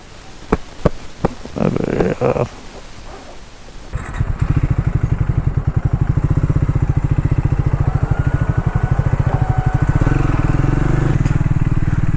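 A motorcycle rides along a dusty road, its engine loud and close with a rapid steady firing pulse for most of the stretch, preceded by a few seconds of knocks and rustling.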